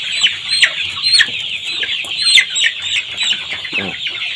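A sick chicken suffering from snot clucking and squawking as it is caught, repeated sharp, agitated calls close by, with a rougher, raspy call near the end.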